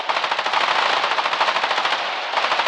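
Rapid automatic gunfire in the war video game Foxhole, a loud continuous burst of closely spaced shots with a short gap near the end, with no talk over it.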